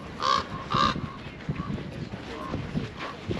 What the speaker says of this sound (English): They have a trained crow to welcome us to Old Faithful area.